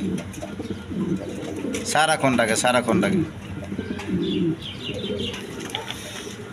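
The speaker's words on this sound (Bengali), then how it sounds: "এখানে এক পেয়ার ডেনিস আছে, কোয়ালিটি সম্পন্ন কবুতর।" Danish pigeons coo in low, rolling bursts close by while someone talks over them, with some chirping and a short flurry of louder sound midway.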